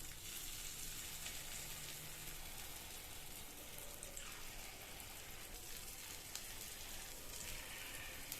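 Idli batter sizzles in ghee in the cups of a paniyaram pan, a soft, steady crackle with no talk.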